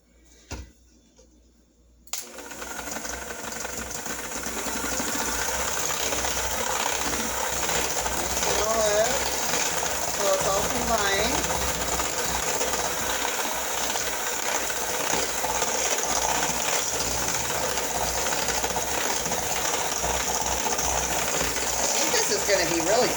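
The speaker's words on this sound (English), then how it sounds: "Let's use the mixer again." After a few brief clicks, an electric mixer whirs steadily and continuously while beating zucchini bar batter in a bowl, holding a loud, even drone that lasts to the end.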